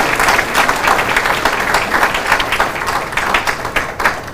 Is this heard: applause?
yes